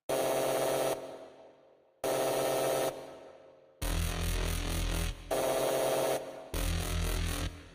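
Repeated bursts of a buzzy, noisy synthesizer drone in E2, played in Reason 6.5 with the mod wheel all the way down, some with fading tails, the later ones rougher and more textured, with no voices.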